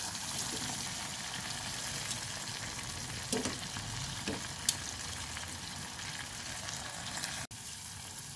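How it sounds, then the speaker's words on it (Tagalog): Eggplant sizzles and crackles steadily in hot oil, a continuous frying hiss with occasional pops and a few stirring clicks. "Kulong-kulo na sa mantika ang ating talong"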